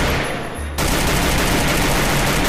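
Rapid gunfire from the mobile battle game Free Fire bursts in after a brief quieter moment, a dense, loud, sustained rattle of shots continuing to the end.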